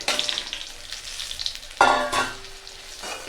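Mustard seeds and spices hit hot oil in a pan with a sudden loud sizzle that settles into steady frying, close up and with no voices.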